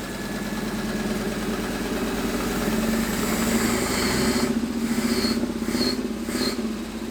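An Audi-based buggy engine with a Weber carburetor runs at a steady, close idle with an even low rumble and vibration, and a faint high whine comes and goes toward the end.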